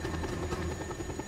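Helicopter in the video game Just Cause 2 makes a steady, fairly faint rotor drone with a soft rhythmic chop, heard alone for a moment.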